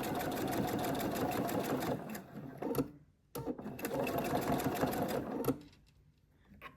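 A sewing machine stitches a curved quilt seam with a quarter-inch allowance, pieced without pins: a loud, close, rapid mechanical chatter in two long bursts, separated by short pauses and handling noise.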